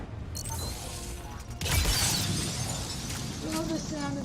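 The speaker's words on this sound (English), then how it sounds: "Love the sound of that. It's the breaking glass." Glass shatters in a video game shooting match, a sharp crash and tinkling spray of shards cutting through ongoing game noise, with voices talking over it.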